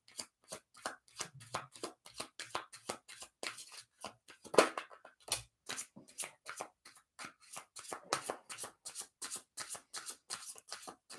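Tarot cards being shuffled by hand for a reading, a close, quiet run of crisp riffling flutters and soft slaps repeating in quick rhythmic bursts with a few brief pauses.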